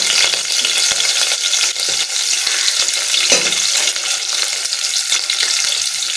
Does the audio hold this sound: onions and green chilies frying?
yes